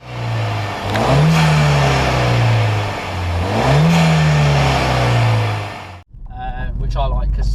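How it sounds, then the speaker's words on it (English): Ford Fiesta ST 180 engine revving hard in two long rising-and-falling sweeps, loud and close, then dropping off into a fluttering wastegate chatter and blow-off hiss as the throttle closes. "You get the flutters of the kind of wastegate. And the little kind of blow-off sound"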